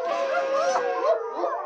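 Cartoon dogs howling together in a 1990 French animated series, a continuous wavering chorus of overlapping howls at close range with no talk.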